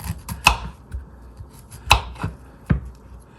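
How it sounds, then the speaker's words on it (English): A knife chops through fresh broccoli on a cutting board, separating it into small florets for a veggie platter; three or four sharp, distinct cuts land at irregular intervals, close and fairly crisp, with no talking. "We're going to cut them in little flowerets just like we did with the cauliflower."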